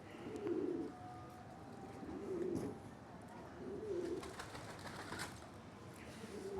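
Pigeons on a rooftop coo in soft, repeated low phrases, roughly every second and a half, with faint background noise and no talking.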